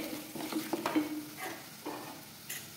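Red chili powder, coriander powder, garam masala, turmeric and salt roast in hot oil for a tomato saar or sambar, giving a soft, quiet sizzle with occasional stirring scrapes.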